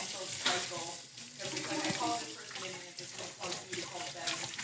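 Running tap water pours over a metal cocktail strainer during a Cinco de Mayo cocktail session, giving a continuous splashing rush with faint clinks, close and steady with no talk.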